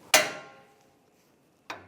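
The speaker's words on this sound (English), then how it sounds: "just hit it with a hammer" Two sharp metallic hammer strikes on a steering knuckle of a 2007-2017 Jeep Wrangler, close and loud, the first ringing out briefly before a pause and the second.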